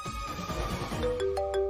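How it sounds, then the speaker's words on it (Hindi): A mobile phone rings in a Hindi TV drama scene with a call from the boss. Steady electronic ringtone tones start about a second in, over a busy background. "और तेरे बॉस का फोन है"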